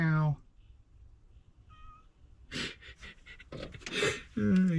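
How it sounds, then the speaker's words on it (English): A stray cat meows several times in short, close bursts during a car distributor install, between stretches of a man's speech at the start and end. "Cat like randomly showed up here. Now I feed it and it just meows."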